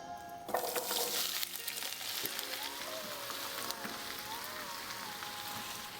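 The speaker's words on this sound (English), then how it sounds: "Butter is melted, onions are going in." Onions drop into melted butter in a pan for French onion soup and set off a sudden loud sizzle that settles into a steady crackle, with a faint tonal hum underneath.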